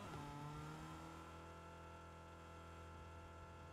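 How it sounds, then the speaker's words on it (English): A steady car engine from the video game Fortnite hums continuously throughout, with a sustained low drone and a slight rise in pitch near the start, fairly loud and close. "I heard a vehicle, I heard the car noise"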